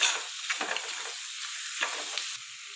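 Mutton varattiyathu sizzles steadily in a pan while it is stirred, with close, continuous frying hiss and a few soft scrapes of the spoon; no one speaks.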